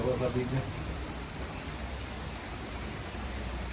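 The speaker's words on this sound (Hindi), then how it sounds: "बहुत तेज़ बारिश हो रही है" Heavy rain falls outside, a steady, even hiss of dense rainfall that runs continuously and fairly softly throughout.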